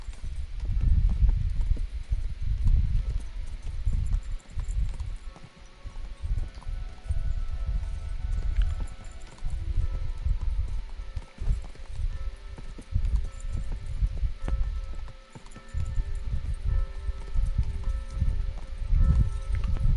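Horse hooves clip-clop steadily in Kingdom Come Deliverance 2, a continuous rhythmic thudding gait that is loud and close, with one brief pause partway through and no voices.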